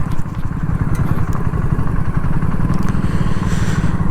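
A BSA Goldstar 650 motorcycle being ridden over a rough Bangalore road, its engine note a steady, continuous low rumble with some clatter, close and loud throughout.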